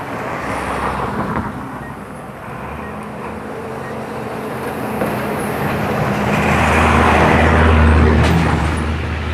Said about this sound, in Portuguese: O caminhão passou